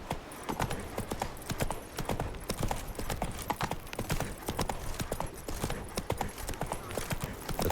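Roach, a horse in The Witcher 3: Blood and Wine, gallops in a steady, continuous beat of hoof clops, close and fairly loud throughout, with a faint whinny hinted at.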